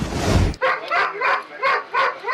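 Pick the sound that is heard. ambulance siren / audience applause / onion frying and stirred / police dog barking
police dog barking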